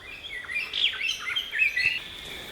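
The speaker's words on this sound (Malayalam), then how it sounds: "കുറേ പക്ഷികൾ നടപ്പുണ്ട് കേട്ടോ" Several birds chirp and tweet at once in bright, overlapping calls, a lively chorus in the Parambikulam forest with no one speaking.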